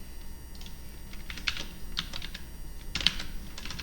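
Keys on a computer keyboard are tapped while C code is written, giving scattered soft keystrokes with a few sharper clicks, fairly quiet and close, with no talk.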